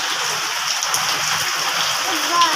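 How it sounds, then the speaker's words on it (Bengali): Steady rain falling on surfaces outdoors, a close, even patter and hiss that runs without a break, with a faint brief sound near the end. "দেখেন কিভাবে বৃষ্টির মধ্যে যাই।"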